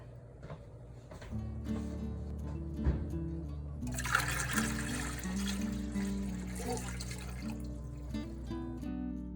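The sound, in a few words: water filling a canning pot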